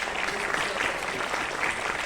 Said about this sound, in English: please have a round of applause for our esteemed